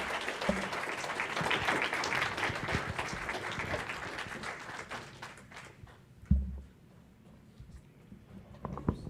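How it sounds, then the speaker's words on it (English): A church congregation applauds its guest musicians at a Sunday morning service with sustained crowd clapping that gradually thins and fades, with a couple of brief thumps along the way. "Just give them another round of applause"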